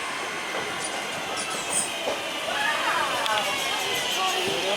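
A West Midlands Railway train runs along the line near Sutton Coldfield, heard from inside as a steady rumble and hiss with faint wheel squeal, while people talk.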